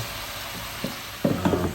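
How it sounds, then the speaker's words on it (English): Defrosted pork sizzles and hisses in a frying pan, a loud, close crackle that comes in short bursts as the meat hits the hot oil and gets stirred. "What are we doing next? Frying. Oh, frying."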